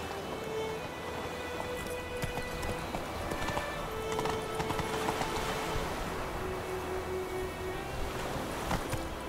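Galloping horse in Witcher 3: The Wild Hunt near White Orchard, hooves pounding in a fast steady rhythm close by, layered over soft outdoor ambience and occasional neighing.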